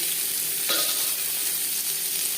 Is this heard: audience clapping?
no